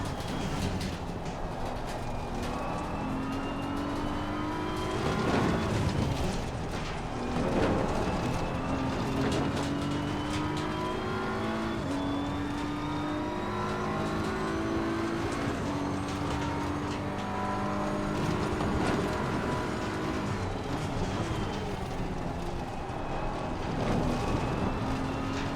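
Racing engines drone steadily in Assetto Corsa Competizione during a multiclass endurance race on the Nordschleife, a Porsche Cup car among them, with pitch rising and falling through gear changes and a continuous close engine roar.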